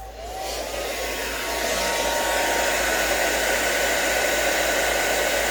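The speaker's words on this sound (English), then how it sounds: "Let me get my blow dryer on and let's dry it." A blow dryer runs steadily and loud to dry wet paint on paper, a continuous whooshing roar that swells slightly after the first second and holds for several seconds with no talking.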